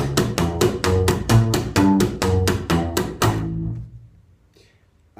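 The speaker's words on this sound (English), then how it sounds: "You pull the string, and then you hit the string." Double-slap technique on a double bass, each low plucked note followed by a slap of the string against the fingerboard, forms a rapid, even percussive pattern up close, then stops and leaves near silence with a faint thump at the end.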